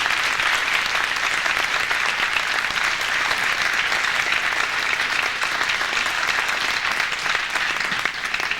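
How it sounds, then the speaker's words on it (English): Loud, continuous audience applause for middle school recipients at a community service awards ceremony, a dense, even wash of clapping that stays steady throughout with no talking over it. "these are the middle school recipients and deserve a big round of applause"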